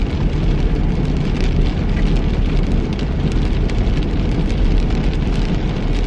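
Freezing rain falls steadily outdoors in a dense, loud, continuous hiss of patter with scattered sharper drops, unbroken for the whole stretch and with no voices.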